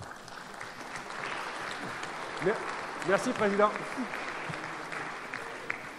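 Soft, diffuse applause from a room at a diving federation's general assembly fills the background while someone speaks briefly over it.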